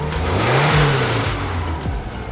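Boxer engine revs hard in a car, with a loud rising and falling mechanical roar and a pitch sweep up then back down, close and alone without talk.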